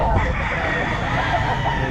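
A rooster crows amid the bustle of a crowded pet market selling chickens, a single close crow over background clucking and murmuring voices.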